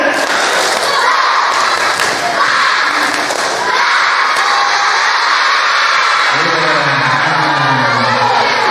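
Another round of the tepuk semangat clapping chant from an audience at an ustadz's sermon gathering, loud and crowded, giving way near the end to a voice speaking over the room.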